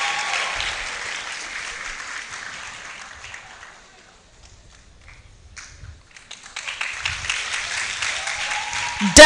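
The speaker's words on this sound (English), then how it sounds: "Let's applaud her while she makes her way here to pick her certificate." Audience applause at a law faculty roll call ceremony as a graduate walks up for her certificate; clapping fades to near silence midway, then swells again, with some footsteps and taps.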